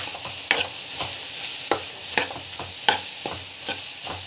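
Spices fry in a pan while a spoon stirs them, with repeated sharp scraping strokes over a steady sizzle, close and clear, no talk.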